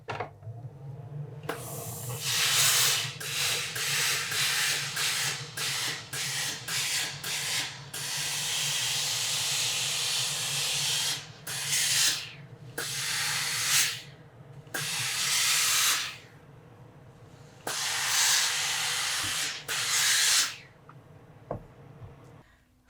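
A steam iron pressing the binding of a quilted jacket toward the hem gives off repeated bursts of spray and hiss, with short pauses between them, set over a low steady hum.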